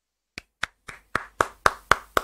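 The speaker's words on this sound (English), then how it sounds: "round of applause for Tristan." Hands clap eight times at an even, steady pace, each clap sharp and close. The claps get slightly louder as they go, sounding more like one person or a small group than a full audience.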